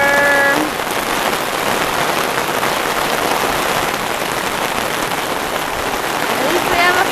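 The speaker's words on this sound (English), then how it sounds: "It's a downpour." Heavy rain pours down in a steady, loud downpour during a thunderstorm, a dense continuous hiss that fills the whole stretch, with a brief voice at the very start.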